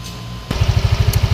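A Yamaha Mio Soul scooter with a worn clutch lining starts with a sharp catch, then settles into a close, loud idle that pulses in a fast, even rhythm.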